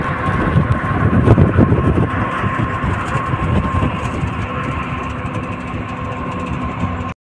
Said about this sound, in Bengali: বাস ছেড়ে দিয়েছে, আর ১০০ কিলোমিটারের মতো বাকি আছে।